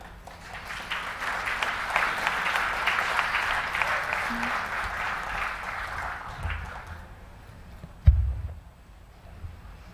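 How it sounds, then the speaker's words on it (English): Audience at a ceremony honouring humanitarians bursts into warm applause for a medal recipient, building quickly and holding strong before fading around the midpoint, followed by a single loud thump and quiet room noise. "Sunitha, please accept this applause"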